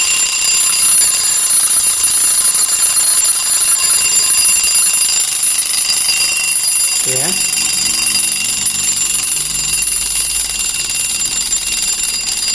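A repaired wristwatch alarm rings steadily in a continuous electronic tone, with a brief spoken word partway through.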